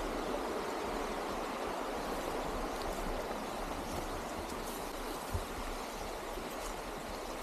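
Rushing water of the Cayulo Waterfalls and river, a dense continuous roar of falling and flowing water, steady and fairly loud, with no voices.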